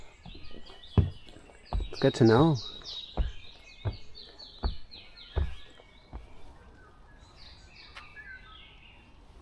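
Wild birds chirp in the morning outdoors: bright, quick tweets repeat in scattered bursts, some near and some farther off, while someone speaks briefly between them.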